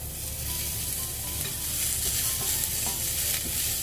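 Carrots sizzle steadily in a hot pan for vegetable Hakka noodles, a dense, even frying hiss with occasional scraping stirs, close and loud with no talking.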